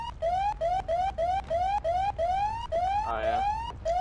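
Manual siren on a fire truck in the Roblox game Firefighter Simulator, wailing in short rising whoops repeated about eight times in a steady rhythm, loud and close with no talking.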